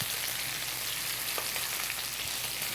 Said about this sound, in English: Keep butter basting it.